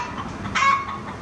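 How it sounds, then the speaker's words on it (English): A short, agitated cluck or squawk from a chicken rises briefly over a rumbling background; one quick call, moderately near. "the chickens are mad. I'm not really sure why."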